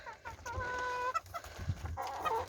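Ornamental chickens cluck and make drawn-out tonal calls close by in a coop, several short vocalizations overlapping in quick succession.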